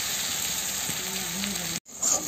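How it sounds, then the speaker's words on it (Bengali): Ginger garlic paste sizzles in hot oil while cooking a mutton liver curry, a continuous close hiss with faint stirring, breaking off briefly before resuming. "এবারে আদা রসুন বাটাটি আমরা দিয়ে দেবো।"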